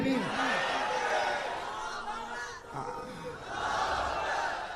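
A large crowd at an Islamic religious gathering in Ahmedabad calls out a Takbir chant in loud, overlapping voices that rise, dip briefly, then swell again, with a speaker's voice woven through it.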